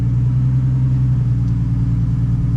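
A Nissan R31 with an RB30 engine revs and accelerates close by, a loud, steady low rumble with no talking.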